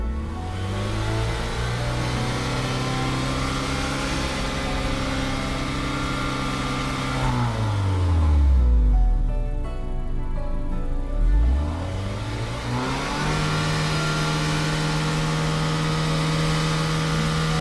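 Vehicle engine running, revving and pulling away, a steady mid-pitched drone whose pitch drops and rises again through gear shifts before settling into a constant hum.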